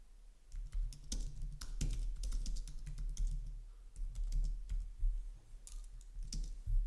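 A prompt typed on a computer keyboard, heard as a quick, uneven run of close key clicks and taps over a low steady hum, with no talking.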